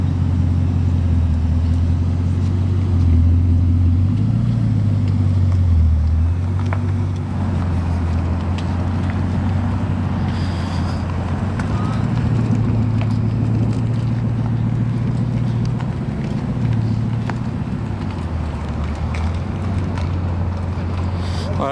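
A Bugatti Chiron Profilée hypercar rolls slowly by with a deep engine drone that swells and dips in pitch. Someone talks over it throughout.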